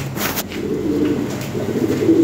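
A pair of big Lahori pigeons coo in soft, low, repeated calls close by.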